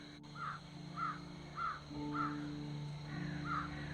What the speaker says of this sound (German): Die Raben höre ich auch.